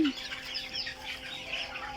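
Egyptian Fayoumi chickens cluck close by in short, soft bursts over a steady background, with a brief louder call at the start and another near the end.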